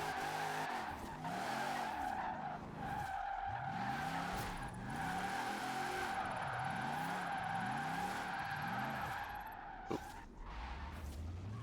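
Car drifting with sustained tire squeal in Forza Horizon 4, the engine revving in repeated rising and falling sweeps while the tires screech continuously and loudly throughout, with no talk.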